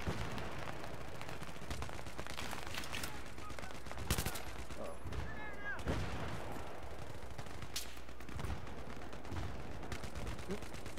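Gunfire in Battlefield 3 multiplayer, repeated sharp shots and bursts, some close and loud, others distant, scattered across a noisy battle with a voice speaking at times.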